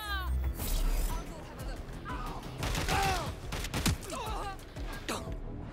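Gunfire crackles in the Watch Dogs video game, a few sharp shots mixed into busy game sound while someone talks over it.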